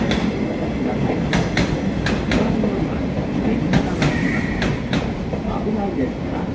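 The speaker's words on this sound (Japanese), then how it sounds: "番乗り場に電車が参ります。" Train noise fills a platform at Yonago Station, a loud rumble with repeated clicks and metallic screeches as cars roll by.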